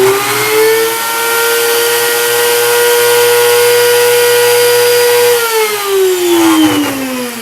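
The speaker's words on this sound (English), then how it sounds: "Now let's blend." Blender on high speed grinding moringa leaves into powder, a loud steady motor whine held for several seconds before its pitch drops as it slows, with rattling near the end.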